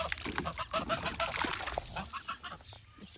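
Several geese honk and squawk in a farm paddock, overlapping nasal calls close by in irregular bursts, with a little background noise.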